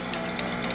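Liquid streams steadily out of a Honda QR 50 motorcycle frame oil tank that held old sludgy oil and some water, a continuous close gushing pour with no break.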